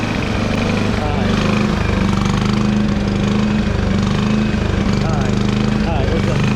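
An old RV generator engine runs at a steady, loud, close drone with a rough, even idle-like beat, its carburetor in need of cleaning.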